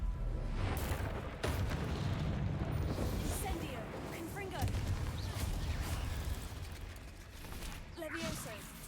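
Confringo spell blasts in the video game Hogwarts Legacy, a series of booming fiery explosions and crackling bursts over a low rumble, with a voice speaking over the action.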